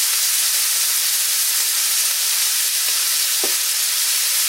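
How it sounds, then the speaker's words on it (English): Strips of bacon fry in a crowded pan with a steady, loud, continuous sizzle that stays unbroken throughout, broken only by a faint brief clink near the end. "Bacon's going."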